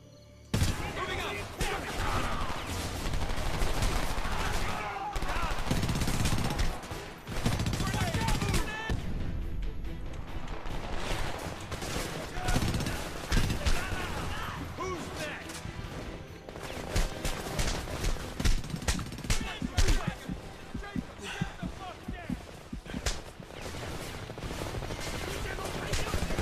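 Rapid gunfire from the video game Homefront, with dense bursts of automatic and single shots crackling loudly throughout, brief lulls between volleys, and a voice talking at times under the shooting.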